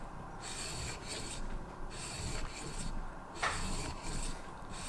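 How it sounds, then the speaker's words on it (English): A steel chisel's bevel is rubbed back and forth on a fine-grit sharpening stone, giving soft, rhythmic rasping strokes that come and go in repeated passes, close by and fairly quiet, with no talking. "you can almost hear that this is a finer grit stone because it hardly makes any noise really"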